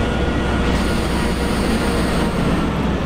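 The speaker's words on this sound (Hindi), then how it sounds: "ये लोकोमोटिव में जो एयर हिसिंग वाला नॉइज आता है ना, ये भी काफ़ी अच्छा लगता है" In the MSTS train simulator game, a locomotive hauls a train with a loud, steady rumble and broad air hiss that continues without a break.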